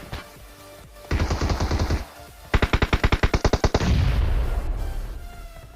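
Tommy gun fire in PUBG comes as two loud, close rapid bursts with a brief pause between them, followed by a lingering rumbling echo.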